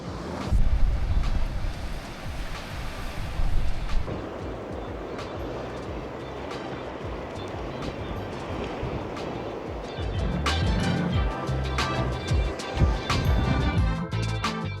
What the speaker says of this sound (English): No crowds, just waves, the breeze, and the sound of our own footsteps in the sand.